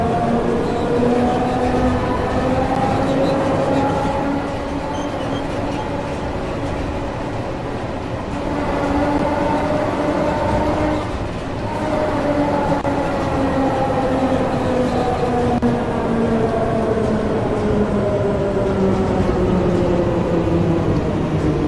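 A London train runs along the line toward Wembley Central, heard as a steady loud rumble with rising and falling motor whine and a faint clatter of wheels, continuous throughout with no voices.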